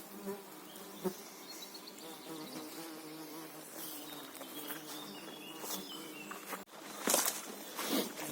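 Mosquitoes whine steadily near and far, with a few soft rustles and a brief louder swell toward the end, on a forest path after rain.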